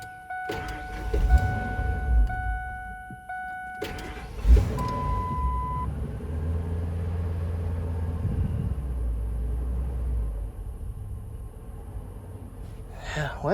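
A Ford Excursion engine rumbles and revs up close with a deep, sustained drone, broken by a couple of sharp knocks and faint tones early on, while people talk nearby.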